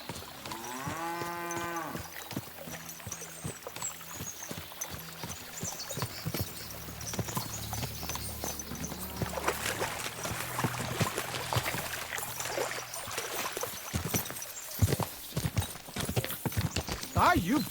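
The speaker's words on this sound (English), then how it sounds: "we'll give the horses a gallop again" Steady, rapid clatter of galloping horse hooves in the video game Kingdom Come: Deliverance II runs throughout, with voices and other game sounds mixed in.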